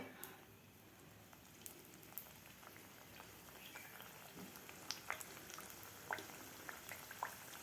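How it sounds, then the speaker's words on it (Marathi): Sweet jaggery-coconut puris fry in hot oil on a medium flame, a soft continuous bubbling hiss dotted with faint pops and crackles, heard close but quiet with no talking. "तेल आपलं व्यवस्थित गरम झालेलं आहे गॅस आपल्याला मिडियमच ठेवायचा आहे तर आता आपण यामध्ये पुऱ्या सोडून घेऊया"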